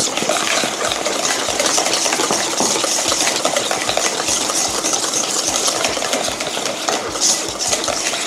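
A yogurt and cream cheese mixture for a strawberry tart is beaten hard in a bowl, giving a loud, steady, close-up whirring and slapping churn that runs unbroken throughout.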